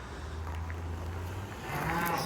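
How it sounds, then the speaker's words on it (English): A cow on a hay farm moos in one long, low, drawn-out call at moderate distance, followed by a second rising bellow, with faint outdoor ambience around it. "The cow is not happy out there"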